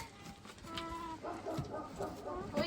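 Hens cluck in a rural farmyard after laying three eggs, with repeated short, nasal calls that grow busier in the second half, close to the listener and alone without speech.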